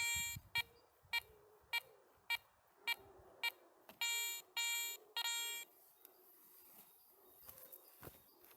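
A Garrett 400i metal detector sounds a series of short, sharp beeps over a buried coin in soil. The tones come at a regular pulse, then lengthen into longer tones, with faint handling noise between them.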